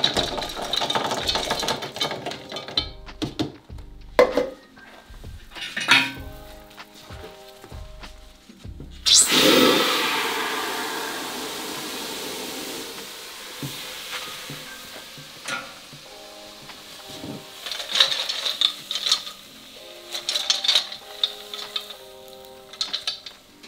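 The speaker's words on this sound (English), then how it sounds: "Now we grind in intervals," A PULVERISETTE 11 knife mill grinds organic material with liquid in short intervals: a loud whirring roar surges up after clicks and brief starts, then winds down between bursts, all close with no speech.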